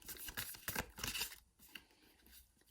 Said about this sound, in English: Let's go and shuffle the deck